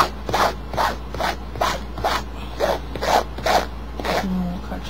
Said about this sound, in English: So I just cut a little slit, real small, and I'm gonna take my knife and open it up some